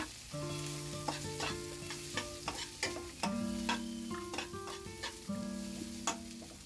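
Cabbage and mixed vegetables such as carrot and capsicum are stirred in a pan for fried rice, with repeated spatula scrapes and light sizzling over soft background music.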